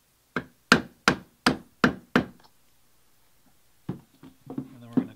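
Six sharp, evenly spaced hammer strikes set a solid brass rivet and burr into leather for a satchel, loud and close, followed by a pause and then soft handling noises and a few light taps.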